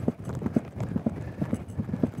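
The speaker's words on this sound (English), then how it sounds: "Now we're getting in a nice rhythm, getting our horse nicely relaxed." Horse hooves beat on Goodwood racecourse turf in a steady, even gallop, a quick run of muffled thuds repeating throughout at close range.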